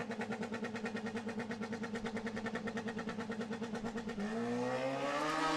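A drag racing motorcycle with an extended wheelie bar idles with a rapid, even pulsing engine note, then launches at about four seconds into a loud rising roar as it accelerates away down the strip.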